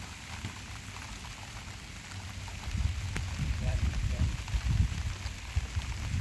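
Steady rain patters on a surface during a sunny sun shower at a fishing spot, a constant wash of drops that grows heavier partway through, with faint voices in the background.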